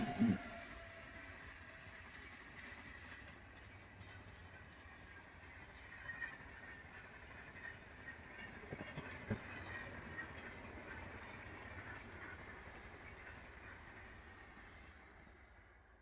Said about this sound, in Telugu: ఓ వెహికల్ ట్రైన్ వస్తుంది, ట్రైన్ని చూద్దామా